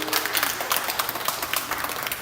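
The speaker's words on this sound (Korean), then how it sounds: "우리 서로 환영하는 박수를 한번 부탁드리겠습니다." Church congregation clapping in welcome during a worship service, a steady dense patter of many hands sustained throughout at moderate level.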